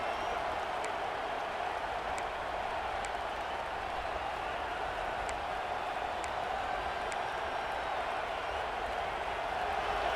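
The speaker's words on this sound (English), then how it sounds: "This crowd knows they have to bring it in big moments, and one of those has arrived." A stadium crowd in a college football video game gives off a steady, dense roar of cheering that holds at an even level throughout, with faint clicks now and then.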